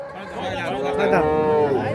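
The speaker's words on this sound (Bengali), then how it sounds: "ছয় দাঁত বয়সের গাভী আর এই যে বাচ্চা" A six-tooth Holstein Friesian dairy cow at a cattle market in Munshiganj gives a single long, close, resonant moo lasting nearly two seconds. Faint market chatter sits behind it.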